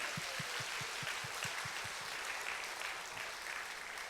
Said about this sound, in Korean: 하늘께 영광 박수.